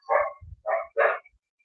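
A single dog barks three times in quick, irregular succession at night, fairly close, with short gaps between the sharp barks and a faint thump in between.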